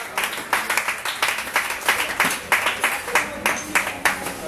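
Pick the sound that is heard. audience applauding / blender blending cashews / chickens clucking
audience applauding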